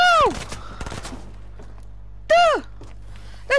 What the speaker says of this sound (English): They're shooting from up there now!